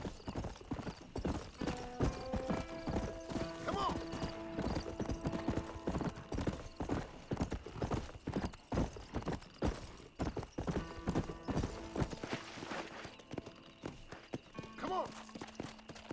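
Horse hooves clip-clop rapidly in the Red Dead Redemption 2 video game, a loud continuous galloping rhythm with occasional whinnies, under a player's shouted talk.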